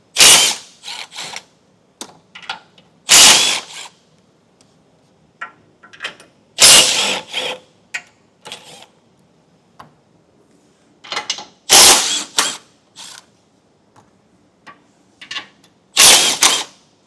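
A ratchet wrench removes 15mm nuts holding the bumper beam on a 2022 Volvo, in about five short, loud bursts of rapid clicking separated by quiet pauses, close by.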